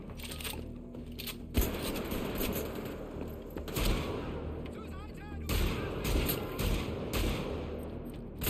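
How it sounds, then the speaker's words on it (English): Weapon fire in a first-person shooter from the Wolfenstein series, from a pistol-sized rocket launcher: repeated heavy blasts and cracks over dense, continuous battle noise, loud and close throughout. "That's like a pistol rocket launcher, goddamn."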